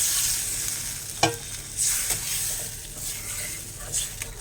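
Water added to spice paste frying in a pan for a parshe fish curry brings a steady sizzling hiss, with a few brief stirring clinks, fairly quiet and close.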